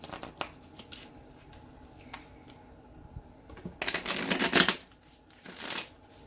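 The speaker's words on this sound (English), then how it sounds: "Let's get a good shuffle going." Tarot cards riffle through a shuffle in quiet, soft flutters that build into a louder, dense burst, then another short riffle near the end.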